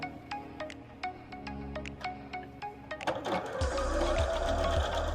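A sewing machine stitches quilt fabric seams. Scattered light clicks and taps come first, then the motor starts into a loud, steady whirring hum that runs to the end.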